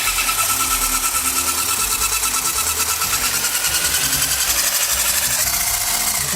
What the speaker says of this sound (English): Just whisking up here.